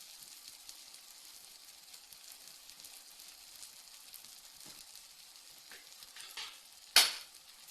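Garlic paratha batter made from liquid dough fries in a pan with a steady, soft sizzle throughout, ending in a sharp brief clatter near the end.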